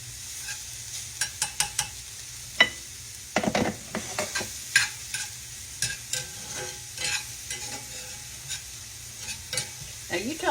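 Butter sizzles in a frying pan of potato hash browns under a faint steady crackle, broken by repeated scraping stirs and clicks of a utensil against the pan, close and moderately loud with no one talking.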